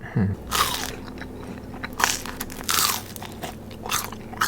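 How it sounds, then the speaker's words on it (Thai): Crispy deep-fried red sausage is bitten with a sharp crunch, then chewed close up in a run of crackly, rhythmic crunches, with no talking. "ไส้กรอกแดงนะถ้าทอดกรอบๆแบบนี้โคตรอร่อย"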